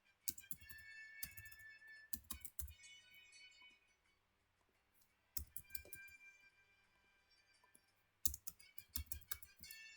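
Computer keyboard typing in bursts of rapid key clicks, three clusters separated by pauses, close and fairly quiet, no voices.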